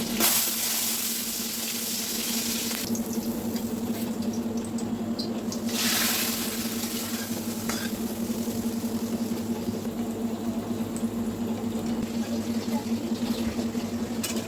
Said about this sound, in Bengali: এখন তেলের উপর রসুন পাঁচফোড়ন দিয়ে ডালটা আমি বাগার দিয়ে নেব